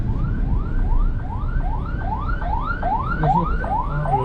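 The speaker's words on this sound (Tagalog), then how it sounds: "Baka makapere tayo sa tunog ng ambulansya." An ambulance siren wails in a repeating rising-and-falling cycle, loud and close, over a low rumble of traffic.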